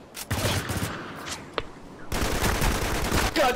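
Gunfire in the multiplayer mode of Spec Ops The Line: bursts of rapid shots and a sustained stretch of dense firing, close and loud, with game sounds in between.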